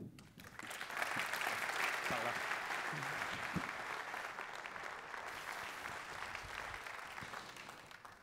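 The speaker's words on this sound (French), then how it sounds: "Je pense qu'on peut encore les applaudir." Sustained applause from a conference audience, steady dense clapping that holds for several seconds before tapering slightly, heard alone without voices.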